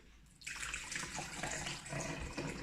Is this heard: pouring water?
yes